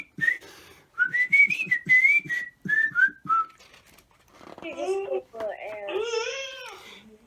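A person whistles a short run of bright, wavering notes, followed by a baby babbling and crying nearby in a quiet room.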